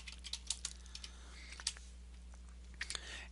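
Computer keyboard typing a name: a quick run of light, irregular key clicks over a steady low hum, faint and close.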